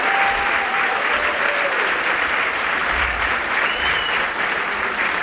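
Loud, dense applause from an audience honoring school teachers at a children's cantata, sustained and even throughout with a faint crowd murmur beneath.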